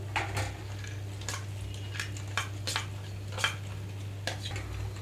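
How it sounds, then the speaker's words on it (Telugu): A spoon stirs brown bread pieces and dry fruits in a pan for double ka meetha, with intermittent scraping clinks against the metal, close and moderate over a steady low hum. "డ్రై ఫ్రూట్స్ వేసిన తర్వాత ఒకసారి కలుపుతున్నాను"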